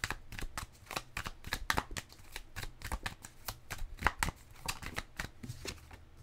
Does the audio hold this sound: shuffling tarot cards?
yes